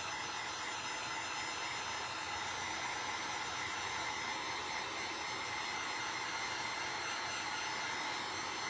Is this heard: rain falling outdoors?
no